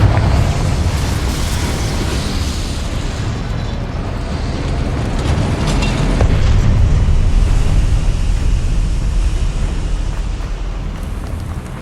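Confringo fire spell blasting in Hogwarts Legacy, a loud, sustained rumbling roar of explosion with a rushing, wind-like wash that swells and holds throughout.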